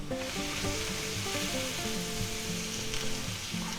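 Butter melts into minced garlic in a pan for shrimp stir fry, giving a dense, close, continuous sizzle with faint stirring underneath and no voices.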